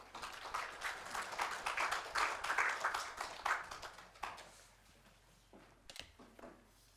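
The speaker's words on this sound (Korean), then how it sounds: "목사님 나오실 때 박수로 환영하겠습니다" Applause greets a pastor as he comes forward at a church staff worship service, a moderate patter of clapping that swells and then thins out to scattered claps.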